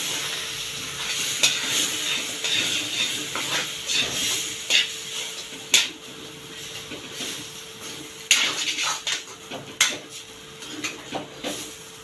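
A spoon works semolina halwa around a pan, with irregular scraping and knocks over a soft, steady sizzle, close and fairly loud.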